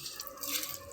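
Water poured and splashing while a pigeon cage is cleaned, a short, continuous hissing wash of liquid, fairly close, with no talking.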